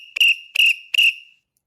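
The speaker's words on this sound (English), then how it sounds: "Short blasts of the whistle are signaling that you see ICE" Three short, shrill whistle blasts in even succession, each about a quarter second, sounded as a warning signal that immigration agents are nearby; loud and close with no talk.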